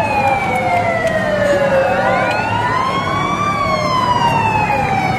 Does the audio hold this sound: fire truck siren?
yes